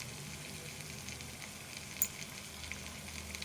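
Potatoes fry with roasted coriander powder in a pan, a steady soft sizzle running throughout at low level, with one brief sharper crackle near the middle.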